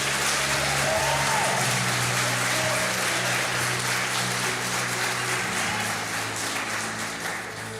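A church congregation applauds during a worship service, a thick wash of clapping that stays strong with a low hum beneath, then eases off near the end.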